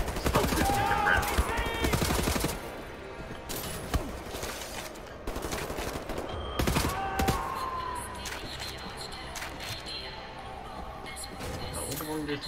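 Automatic gunfire crackles in Wolfenstein: The New Order, with rapid bursts and single sharp shots scattered through the scene, mixed with someone talking over the action.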